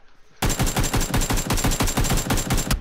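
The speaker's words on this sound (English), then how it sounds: "There's another guy shooting at you too." Sustained automatic gunfire from another player in a multiplayer shooter, a fast loud burst of rapid evenly spaced shots that starts abruptly and rattles on for over two seconds.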